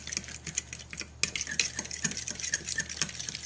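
A utensil stirs a mixture in a bowl with quick, continuous scraping and ticking strokes, close and moderately loud, with no talk over it.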